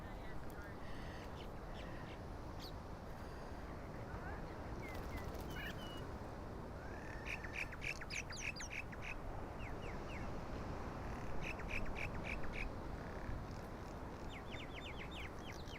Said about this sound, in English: you can all hear the sounds of the sea and the sounds of the birds